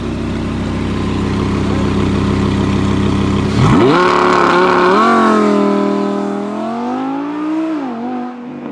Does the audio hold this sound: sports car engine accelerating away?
yes